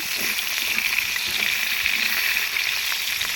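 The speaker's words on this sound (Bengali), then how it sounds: "আমি সবগুলো মাছ আস্তে আস্তে ভেজে নিলাম" Silver carp pieces frying in a pan, a steady bright hiss of sizzling oil with faint crackles, continuous and close.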